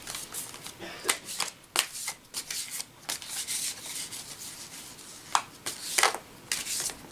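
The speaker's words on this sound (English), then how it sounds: "They're quite awkward to shuffle, but you know." Oversized tarot cards are shuffled in quick bursts of riffling and sliding, close by, with short pauses between passes.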